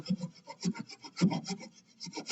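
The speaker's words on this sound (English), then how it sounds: "file rounding it." Close, gritty rasping of a file on wood, several uneven strokes in a row with brief pauses between them, no voices.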